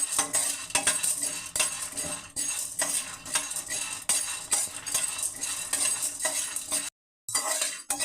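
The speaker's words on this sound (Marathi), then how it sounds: "डाळवा पण मस्त शेंगदाण्याबरोबर भाजून घेते." Peanuts and roasted gram dal dry-roasting in a pan, stirred with a metal spatula in steady scraping strokes with light clinks, close and fairly loud, with a brief silent gap near the end and no talking.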